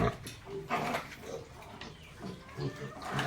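A farm pig grunting and snuffling close by in a pen, a few short low grunts scattered over a few seconds, fairly faint against background noise.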